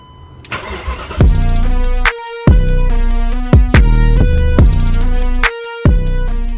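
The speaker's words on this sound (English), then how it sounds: "All right, clutch is pushed in. First start. It might run like absolute ass." A BMW E39 M5 engine in a Touring build fires for its first start after a brief crank, then settles into a loud, rough idle with repeated abrupt cutouts and surges, very close.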